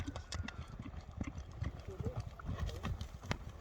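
Racehorse Vulkan galloping, rapid rhythmic hoofbeats pounding steadily, with voices and engine noise in the background.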